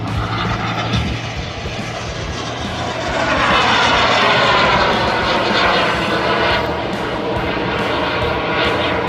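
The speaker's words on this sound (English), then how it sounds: "This demonstrates to you not only the capability of the mini-jet in a very tight, high-G turnaround" A mini jet aircraft pulls a tight high-G turn during an air show display; its jet engine roars loud and close, swelling into a rising whoosh as it sweeps past, with no voices.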